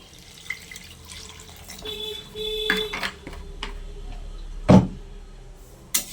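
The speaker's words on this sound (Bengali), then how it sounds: "জল দিব।" Water pours into a pot of thin rohu fish curry in a home kitchen, short splashing bursts with clinks of utensils, close and moderately loud, no talk.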